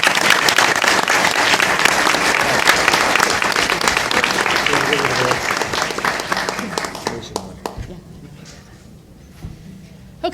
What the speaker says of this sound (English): one more round of applause for our Teachers of the Year